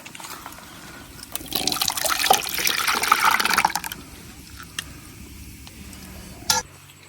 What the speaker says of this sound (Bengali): এখন আমি এই ক্যারামেলের প্যান্ডার মধ্যে ডাইলা দিয়াম